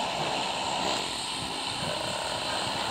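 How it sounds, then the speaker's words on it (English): Steady, loud drone of an airplane's propeller engine in the game PUBG Mobile, a continuous broadband roar with no speech over it. "Okay, guys, we're in the plane now."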